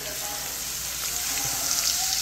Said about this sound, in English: So the oil is already hot now. I'm about to fry the curry.